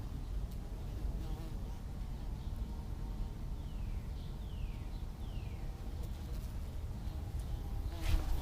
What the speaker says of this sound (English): Yeah, those are bees.